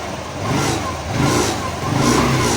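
Hero Xoom 125 scooter engine running after being started on a charged battery, a steady loud mid-pitched rumble that swells slightly in waves.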